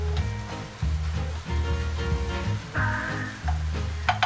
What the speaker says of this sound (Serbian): Promešat ću sada sve.